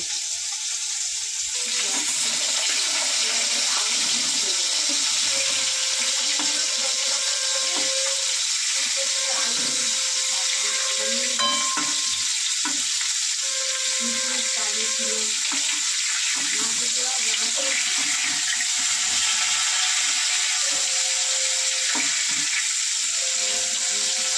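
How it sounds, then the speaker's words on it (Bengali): Cauliflower is dipped and washed in turmeric water at a sink as a tap runs in a steady, bright hiss throughout, with light splashing, while a person talks over it. "তো এই যে হলুদ জলে চুবিয়ে দিলাম, পোকা থাকলে কিন্তু বেরিয়ে যাবে।"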